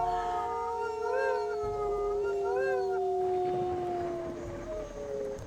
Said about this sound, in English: they are howling in not our territory as well